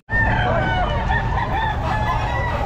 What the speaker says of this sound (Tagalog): Ayan, oh, yung manok, oh.